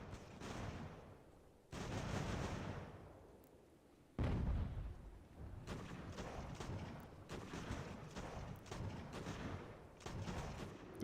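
Artillery volleys in the strategy game Ultimate General: American Revolution, several deep booming blasts with long rumbling decays, one heavy close report around the middle, followed by a steady stretch of dense distant musketry and cannon fire.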